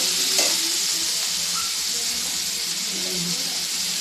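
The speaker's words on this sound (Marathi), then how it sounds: "हे सगळं मी तेलामध्ये हे करून घेणार आहे, खालीवर परतून घेणार आहे" Green chillies and tomato sizzle and hiss in hot oil while being stirred and turned over, a steady close frying crackle throughout with occasional scraping of the spoon.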